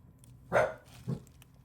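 A small dog gives two short barks, the first louder and the second softer about half a second later, heard close in a quiet room.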